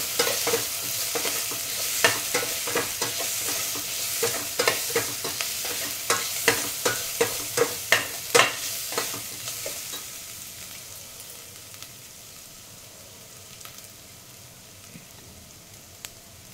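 A spoon stirs ridge gourd masala curry with turmeric in a frying pan, giving a rapid series of scraping clacks over a continuous sizzle, and the stirring fades out about halfway while soft frying carries on.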